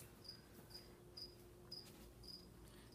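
Crickets chirp in a bearded dragon's enclosure, sharp high trills recurring about every half second at steady volume over a low background hum, with no voices.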